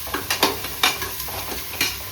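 Mutton being stirred and fried in a pan for sambar, with repeated scraping strokes of a spoon over a steady background sizzle, close and moderately loud, no talking.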